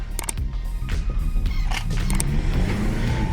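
Audi A6 Quattro Black Edition at full speed, a steady broadband rumble of road and engine noise from inside the cabin with a few brief clicks and knocks, no talking.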